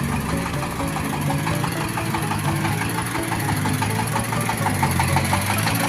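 A Kubota L4028 tractor's diesel engine idles steadily nearby, a continuous low chugging rumble with a regular knocking pulse that holds level throughout, with no talk over it.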